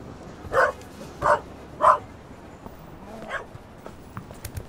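A dog in the adventure game The Raven Remastered gives three evenly spaced sharp barks, followed by softer yips and whimpers, close and clear over a low background.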